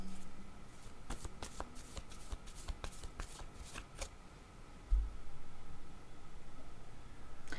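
Playing cards shuffled for a card reading, a run of crisp riffling flutters and snaps close to the microphone, followed by a quieter stretch of soft hiss and handling noise.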